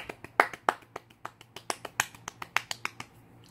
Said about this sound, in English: A little bit of a golf clap.